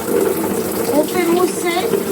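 Tap water running steadily into a basin for rinsing hair during a home hair-colouring session, a loud continuous gush with faint voice-like tones over it.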